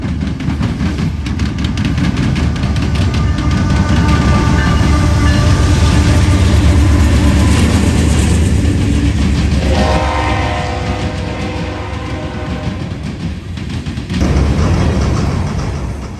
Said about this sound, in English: Next train after 41M was NS 179.